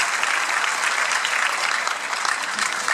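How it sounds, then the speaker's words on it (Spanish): Sustained audience applause at an awards ceremony of the 28th Mar del Plata International Film Festival, a dense, steady wash of many hands clapping throughout at even loudness with no talk. "fuerte el aplauso"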